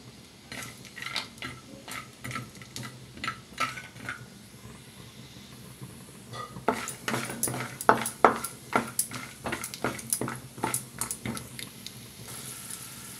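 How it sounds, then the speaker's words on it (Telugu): Peanuts being fried in hot oil in a pan on a stove, with a steady faint sizzle under repeated sharp clicks and scrapes of a utensil stirring against the metal, growing busier midway. "ఆయిల్ వేడైంది, కొంచెం పల్లీలు వేసి వేయించుకుందాం"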